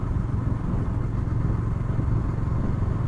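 Bajaj Dominar 400 BS6 motorcycle, a 2020 model, riding along with a steady, loud engine rumble and road clatter, constant from start to finish.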